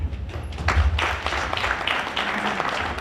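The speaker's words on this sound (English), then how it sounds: "A very big round of applause for them" An audience at a mayor's state of the municipality address gives a round of applause, steady clapping from a hall crowd at moderate volume against a low background hum.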